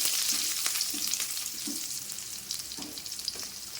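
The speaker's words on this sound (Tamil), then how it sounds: "எண்ணெய் ஊற்றி கொஞ்சம் கடுகு போட்டு, கடுகு பொரியுது, வெங்காயத்தையும் போட்டு" Mustard seeds splutter and onions fry in hot oil in a kadai, making a continuous crackling sizzle. Irregular small pops and soft stirring thumps sit on top of it.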